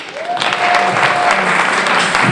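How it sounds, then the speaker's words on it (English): An audience at a poetry event bursts into loud, continuous applause for a poet, the dense clapping swelling quickly and holding steady throughout. "Y'all give her a round of applause."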